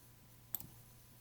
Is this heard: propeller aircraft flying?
no